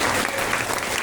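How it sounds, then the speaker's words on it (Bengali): An audience at a devotional talk about the Rath Yatra festival claps together in a brief, dense, even burst of applause. "আবার হাততালি।"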